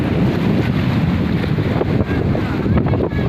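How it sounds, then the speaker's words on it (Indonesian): Strong wind gusts across the open sea off Telaga Tujuh near Langsa, Aceh, heard from a boat, with steady loud roaring buffeting on the microphone and waves beneath, continuous throughout with no talk. "anginnya kencang"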